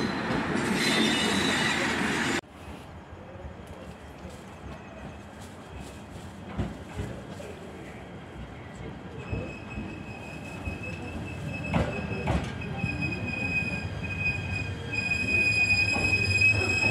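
Train on the JR Tadami Line in Japan rolling along with wheels squealing: a steady rumble of running gear after a louder opening burst, with thin high-pitched squeals rising through the latter half.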